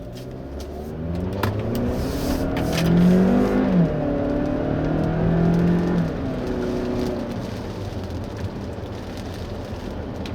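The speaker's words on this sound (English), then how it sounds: "this new engine, is a good engine. It moves out the Santa Fe Sport out smartly." A 2017 Hyundai Santa Fe Sport with the 2.0T engine accelerates while driving on a slightly damp road, the engine note rising to a peak, then easing back into a steady drone with road and tyre noise.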